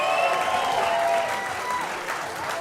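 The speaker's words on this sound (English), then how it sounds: "One more round of applause for Big Ian Coppinger" At a live standup comedy club night, an audience breaks into steady, enthusiastic applause with scattered cheers that stays loud before thinning slightly toward the end.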